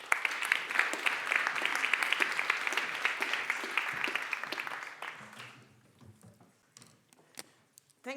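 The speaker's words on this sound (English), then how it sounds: "Can I have a warm applause?" A formal awards ceremony audience for women in science fellowships claps warmly, dense and loud for about five seconds before tapering off into scattered last claps and near silence.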